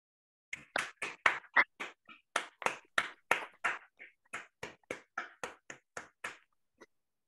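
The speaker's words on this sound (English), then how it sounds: "I propose that we unmute ourselves and we give a round of applause." Scattered, irregular claps from a small online audience after a mathematics lecture, each one a distinct sharp snap at close range, thinning out over about seven seconds with no talk.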